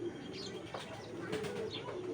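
A six-year-old Bezi breed pigeon coos among other pigeons in a loft, giving faint, low, rolling calls with a few light chirps, while a voice speaks quietly nearby.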